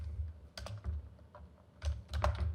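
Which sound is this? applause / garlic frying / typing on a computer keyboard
typing on a computer keyboard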